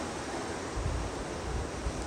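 Wind gusts during a tornado warning roar as a steady broadband rush, with low buffeting thumps against the microphone rising and falling over a couple of seconds.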